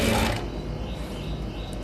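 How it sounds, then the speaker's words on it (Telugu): Sewing machine running a long stitch along a blouse hem, a dense steady mechanical whir that is loudest at the start and then settles into continuous running with no talk. "ఇట్లా పెట్టేసుకొని పెద్ద కుట్టు వేసేసుకుందాం."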